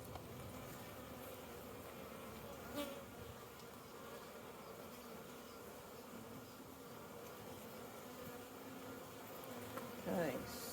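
Honeybees buzz around an opened Flow hive, a soft, continuous hum from many bees nearby with a few louder passes of single bees close to the listener.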